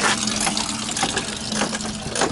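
Coolant draining from the radiator of a 2000 Jeep Wrangler TJ into a catch pan, a steady close splashing and trickling flow that runs without a break.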